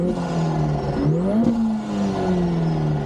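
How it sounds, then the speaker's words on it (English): A Lotus Emira's inline-four engine revs up and down in a strong, continuous growl through its exhaust, pitch climbing and dipping twice, close and loud with no talking. "you've also got the exhaust sound, which is all substantial and all in perfect unison"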